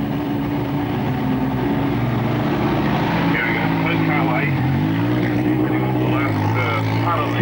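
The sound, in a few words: Peugeot rally car driving off the ramp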